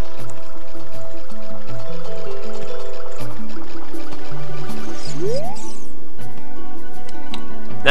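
Link dives underwater in Ocarina of Time, on the way to Zora Town in a swordless three-heart run: liquid gurgles and drips over steady game music, with a rising bubbly sweep midway and no talk.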